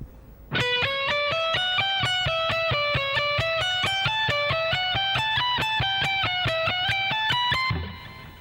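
A distorted electric guitar plays a lick slowly, a steady run of evenly spaced single notes moving up and down a phrase, then the last note cuts off.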